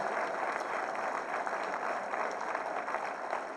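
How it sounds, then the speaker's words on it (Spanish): Sustained applause from an audience at a public forum welcoming a moderator, a dense, even patter of many hands clapping at moderate distance without pause. "Fuerte el aplauso para él, por favor."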